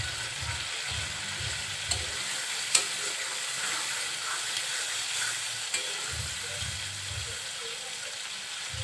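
Beef tripe curry being stirred and sautéed in a pan gives a steady, continuous sizzle with scraping and spoon movement and a few sharp clinks, fairly quiet and close, with no talking.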